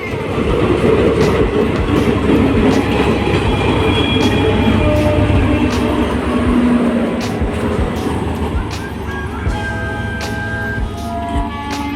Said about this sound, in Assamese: ট্ৰেইনখন এতিয়া লিডুলৈ এইখন চব ৰখি আছে, চাই থাকক।